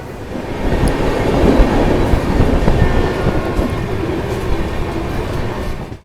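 A Darbhanga–New Delhi clone special train pulls out of Siwan Junction, its carriages rumbling and clattering over the rails in a loud, steady roll with faint horn-like tones, and no talk.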